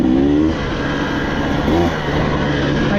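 A 2024 KTM 300XC-W two-stroke dirt bike fitted with a TSP head and ECU tune, its engine revving up and down loudly and close, with rising and falling pitch sweeps.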